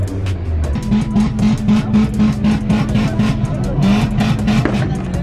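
A Renault Mégane at a car meet sings out with a loud, sustained engine note, rising and falling in pitch as it revs hard, with possible tyre squeal and a busy crowd around it.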